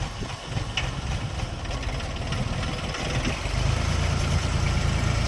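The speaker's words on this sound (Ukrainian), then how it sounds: "Тракторець на вузькій резині, трьохциліндровий" A three-cylinder Jinma 244 mini tractor engine idles steadily nearby, a continuous low rumble with a faint mechanical knock that swells slightly louder toward the end, with no talking.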